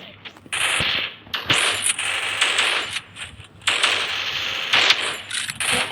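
Rapid automatic gunfire from a favourite weapon in the mobile battle-royale game Free Fire: loud, dense bursts that run almost continuously, broken by short pauses near the start and in the middle.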